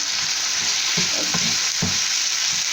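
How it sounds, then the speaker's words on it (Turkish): Chicken pieces sautéed in a hot pan for rice pilaf, a loud unbroken sizzle with a few soft knocks and scrapes of a utensil stirring the meat, close up and without speech. "Şimdi bu şekilde şey, e, piliç, piliçlerimi kavuruyorum."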